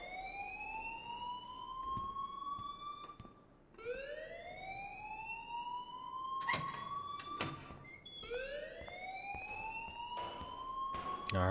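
A wailing alarm rises and falls in repeated sweeping cycles, loud and persistent, with a few sharp clatters cutting in, inside the video game Life Is Strange.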